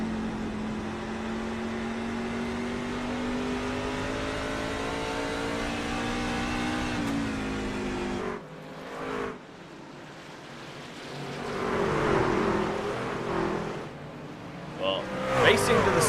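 Apex E-Series race cars lapping Lucas Oil Raceway: a steady, sustained engine drone with rising pitch, then passing roars and crowd-like noise, loud throughout.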